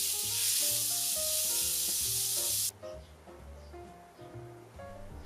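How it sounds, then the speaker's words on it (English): Chopped onion, dried chilies and curry leaves fry in a pan for a spicy South Indian tomato curry, sizzling loudly and hissing before cutting off abruptly midway, with background music playing throughout. "Now add the chopped onion and continue to fry for another 8 to 10 minutes."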